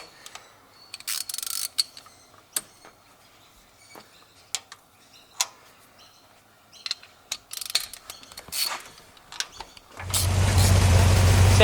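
A rebuilt Ford XW Falcon engine is started: scattered mechanical clicks and clunks of work around the car, then near the end the motor catches and runs loud and steady up close.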